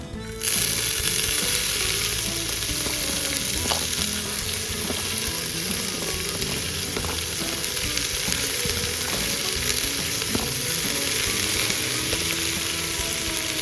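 Fenugreek (methi) leaves sizzle and wilt in a small amount of oil, making a steady, close frying hiss that runs unbroken throughout. A few soft stirring clicks sound under it, and no one speaks.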